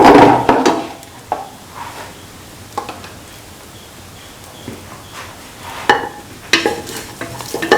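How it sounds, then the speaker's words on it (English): Spices are stirred into chicken and rice in a pan with coconut milk and carrot: irregular scraping and clattering strokes of a spoon against the pan, some sharp and close, over a faint low hum. "Thoroughly mix."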